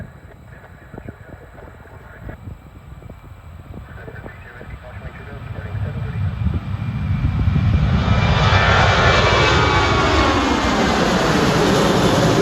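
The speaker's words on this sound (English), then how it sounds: "Looks like our 777 is rolling over there." United Boeing 777 jet engines taxiing at an airport, a steady roar that swells from moderate to loud and broad as the aircraft rolls closer, with some rumble and clicks early on.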